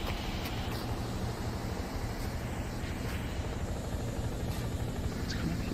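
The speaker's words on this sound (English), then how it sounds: "Helicopter's coming." Helicopter approaching in a horror video game, a steady muffled rotor drone under game ambience, constant and moderately loud throughout.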